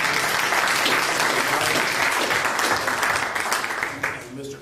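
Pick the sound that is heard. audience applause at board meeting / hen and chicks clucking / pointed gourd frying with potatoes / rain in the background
audience applause at board meeting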